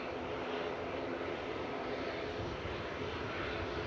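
A Ryanair jet airliner idles on the ground at Manchester Airport, giving a faint, steady, distant engine roar with an odd growling quality and no talk.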